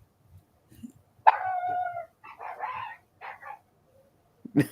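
A dog barks and yips in a drawn-out, howling burst followed by several shorter barks, close and fairly clear against an otherwise quiet indoor background.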